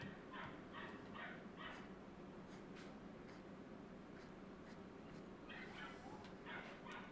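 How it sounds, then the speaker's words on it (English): A dog shut in a cage yaps and whimpers in short, repeated bursts, muffled and distant beneath a steady room hiss. "You can hear the barking"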